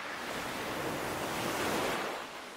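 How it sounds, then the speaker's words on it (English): Sea waves wash over a pebble shore at the tip of an island, a soft, continuous rushing surge that swells slightly and then eases, heard without voices. "The first are deposited rock fragments washed over by the waves"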